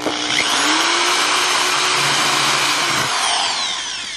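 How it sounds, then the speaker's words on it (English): A power drill bores holes in plastic sheeting for a homemade hovercraft, a loud close whine that spins up, holds steady for a few seconds with a grinding bite, then winds down. "we're drilling holes in the plastic sheeting now for the air to escape underneath the hovercraft"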